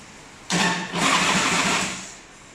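A motorcycle's S&S Evo engine cranks and catches abruptly, then runs with a loud, steady buzzing roar before tapering off slightly toward the end.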